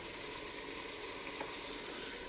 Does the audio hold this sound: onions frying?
yes